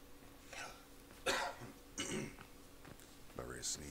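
A few faint, isolated coughs and throat-clearing noises from a player of the survival game Sons of the Forest, separated by short pauses, heard over a low background hum.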